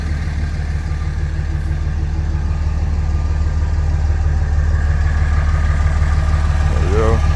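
Steady low rumble of a Dodge truck engine idling, picked up close at the exhaust pipe, continuous and even throughout, with a brief chirp near the end.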